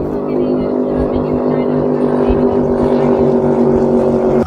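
A speedboat motor drones steadily and loudly throughout, a continuous close engine hum without a break.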